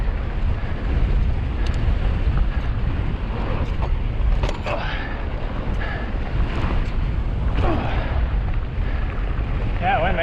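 Headwind roaring across the microphone on a mountain bike trail, constant low rumbling buffeting throughout, with occasional faint voice and bike sounds underneath.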